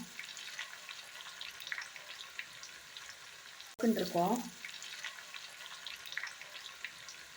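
Broad beans deep-frying in hot oil for a mixture snack, a brief burst of bubbling sizzle rising suddenly midway and fading back to a quiet kitchen background.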